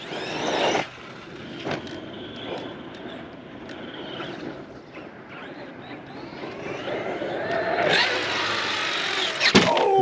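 An Outcast EXB RC car at full throttle gives a whining electric motor drone that rises and falls, with sharp bangs and clatter from bumps and landings, close by and building toward the end.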